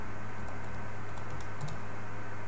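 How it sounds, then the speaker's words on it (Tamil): Someone types on a computer keyboard while entering input into the SAGE math software, producing soft, quick key clicks over a steady low electrical hum, with no talking. "அதில் போய் நம்ம டைப் பண்ணிக்கலாம்."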